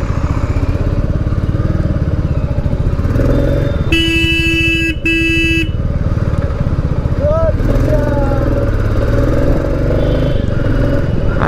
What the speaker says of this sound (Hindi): देखिए पूरा जाम लगा हुआ है